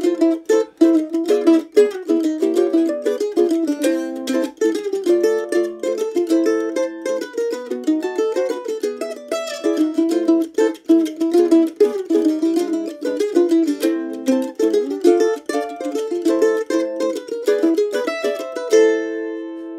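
Mandolin plays a Brazilian choro, fast tremolo-picked melody and chords running continuously and brightly, solo with no talking, ending abruptly.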